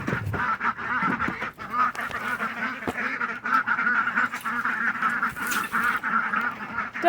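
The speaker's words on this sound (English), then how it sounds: "Ducks make a lot of noise" Several pet ducks kept as backyard birds quack and honk loudly and close by in a busy, overlapping chorus of repeated calls, with brief pauses and a few rustling knocks underneath, with no talking.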